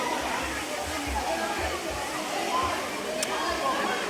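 Water rushes steadily at Aare Falls, a small cascade running like a river, giving a continuous broad wash of noise with faint splashing, close and constant throughout.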